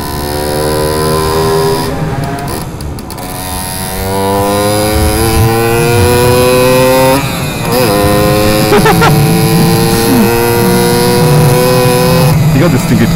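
Simson S51 moped engine revving and shifting while being ridden, a loud, close two-stroke buzz climbing in pitch through gears, with brief drops between shifts; someone talks over it.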